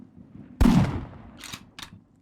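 A single loud rifle shot aimed at an axis buck in a deer hunting video game cracks sharply, then echoes and rolls away, with two faint, brief after-sounds trailing off into near silence.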